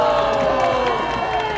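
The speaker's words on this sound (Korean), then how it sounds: "더 큰 박수 보내주세요." Brief burst of crowd cheering and clapping at a street rally against the Constitutional Court in Korea, loud and close, lasting under two seconds with no clear speech.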